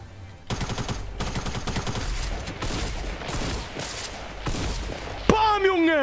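Sniper shots and rapid bursts of gunfire ring out in a Fortnite-style Roblox shooter, loud repeated cracks with short pauses and a sharp final report, with a voice heard faintly beneath.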